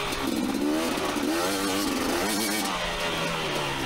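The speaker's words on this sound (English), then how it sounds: "back on the two-stroke, the 2019 KTM 250XC." A 2019 KTM 250XC two-stroke dirt bike engine revs on a trail, its buzzing note rising and falling in quick waves as the throttle is worked, loud and close with no talking.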